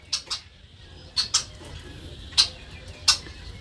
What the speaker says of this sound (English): Red-winged blackbirds are back, ready to eat.